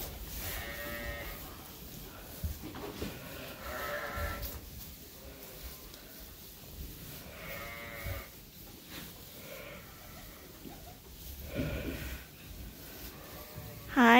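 Sheep and lambs bleating repeatedly on a farm, several overlapping calls near and farther off, with a person talking softly amid the flock noise.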